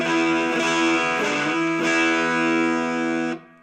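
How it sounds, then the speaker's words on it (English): Sustained, heavily distorted electric guitar chord through a VFE distortion pedal with its tone turned fully dark, a dark, muffled tone ringing steadily for about three seconds before cutting off. "if I pull it all the way down, make it dark, you can hear, obviously it's a much darker tone"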